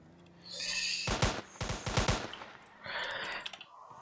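Video game gunfire: a quiet electronic tone, then loud bursts of rapid automatic shots in two clusters, followed after a pause by another crackling burst, with no speech.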